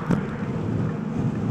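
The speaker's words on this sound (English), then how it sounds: "I don't know if you guys can hear it, but the wind, oh, it is battering us" Wind buffets the microphone while riding a bike on gravel roads in New York, producing a steady, loud low rumble with gusty swells.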